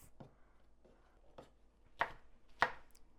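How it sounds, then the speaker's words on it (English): A knife rough-chops chilies on a board, five or six distinct close thuds spaced irregularly, the last two sharper and louder, over a quiet background. "Just a rough chop and in it goes."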